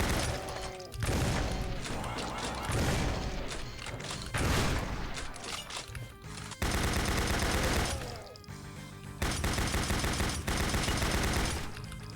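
Heavy gunners firing in the video game Doom 64, loud rapid machine-gun bursts and crashing impacts in several long stretches separated by brief lulls, with chaotic mechanical clatter between volleys.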